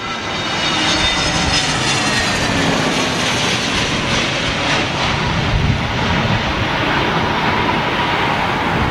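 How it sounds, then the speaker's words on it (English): An Airbus A320neo airliner on arrival at London Heathrow in stormy wind roars loudly and close, a sustained broadband engine and air rush with wind buffeting throughout and no talk. "Another Neo. Popular aircraft for the single aisle category."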